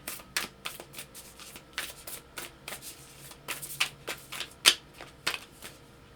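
A deck of oracle cards is shuffled by hand, giving quick irregular riffling bursts and soft slaps, close and fairly quiet, with no talk.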